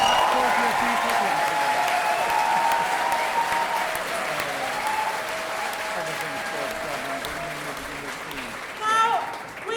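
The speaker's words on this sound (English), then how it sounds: "You've all been cheering for them already" An audience at a left-wing political rally claps and cheers in sustained applause that fades slightly and then swells again near the end, while a voice speaks over it.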